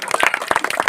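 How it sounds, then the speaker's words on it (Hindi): An audience at a film shoot claps in a short burst of dense, close applause, uneven hand slaps overlapping with no voices. "जोरदार ताली बजाइए भाई साहब बहुत जोरदार ताली होनी चाहिए"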